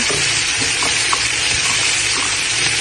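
Sea crab fries in a pan, a loud, close, continuous sizzle with crackling spatters and no voices.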